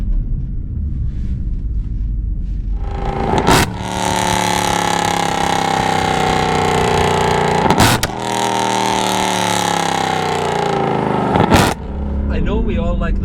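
Supercharged Mercedes CLK 63 AMG Black Series, Stage 3 Weistec tuned, pulls hard on the road with a loud, sustained engine roar and rising whine. The note dips briefly at gear changes, then climbs again.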